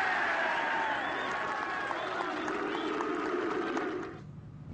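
Crowd at the Ryder Cup golf tournament applauding and cheering, a dense, loud wash of clapping and whistles that carries steadily and then drops off abruptly near the end, with a commentator speaking over it.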